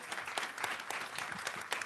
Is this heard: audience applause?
yes